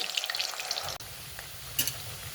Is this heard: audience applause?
no